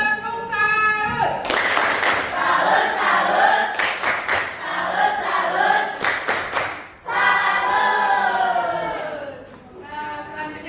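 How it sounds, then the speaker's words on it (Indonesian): A classroom of students performs a tepuk salut clapping chant, loud group voices chanting in rhythm with bursts of sharp claps, pausing briefly and then resuming close by. "Tepuk salut."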